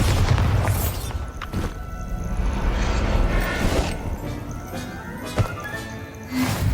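A Bombarda spell blasts in the video game Hogwarts Legacy, heavy booming rumble and crashing debris rolling through several seconds, with sharper impacts near the end amid game sounds.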